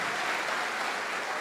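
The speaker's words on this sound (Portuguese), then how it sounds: "Vamos aplaudir o nosso Pai que está no céu." A church congregation applauds during a sermon, dense steady clapping from many hands filling the room without a break.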